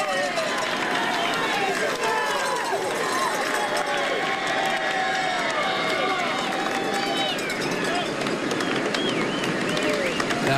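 Crowd noise at the Tour de France in Bourg d'Oisans, a dense, steady roar of many voices with shouts and whistles, loud and continuous, with someone talking over it.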